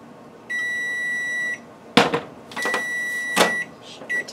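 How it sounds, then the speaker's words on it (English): An oven timer beeps in a kitchen while breakfast and bacon cook in the oven, giving a sustained electronic tone, a sharp knock, then another long tone, fairly close and with no talk. "Shut my timer off."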